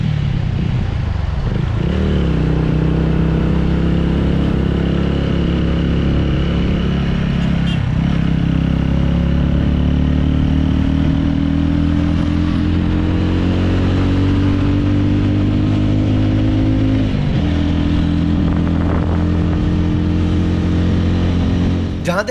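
A TVS Ronin 225cc motorcycle engine hums steadily while riding, its low drone climbing in pitch through several gear-like rises with faint wind noise and brief clatter throughout.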